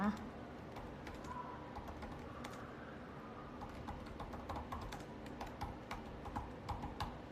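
Quiet typing on a computer keyboard, scattered clicky keystrokes in short bursts running under a low background hum.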